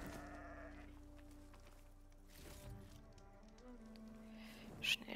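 Sheep in the video game Horizon Forbidden West bleats over a steady game soundscape with tonal music, the calls drawn out and moderately close, ending with a sharper burst.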